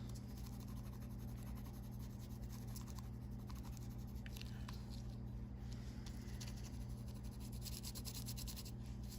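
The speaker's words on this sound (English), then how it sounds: "So this is just colored pencil." Colored pencil shading on paper, a steady soft scratchy rubbing that continues for several seconds, close and quiet, with faint low room hum underneath.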